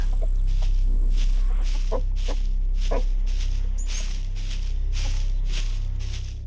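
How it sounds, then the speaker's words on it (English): A chicken in the survival video game SCUM clucks in short repeated bursts roughly every half second to second, over a constant low ambient hum from the game. "Where are you, little chicken?"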